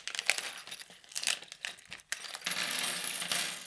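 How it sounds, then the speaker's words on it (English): Small metal screws and bolts from a sim racing wheel accessory bag rattle and clink in a quick, close, bright jingle that swells and settles into a steady shaking. "And it looks like we got some screws."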